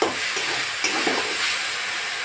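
Spice paste with oil and a little water stir-frying in a pan for a potato and chang fish curry, a steady close sizzle with soft scraping stirs, alone.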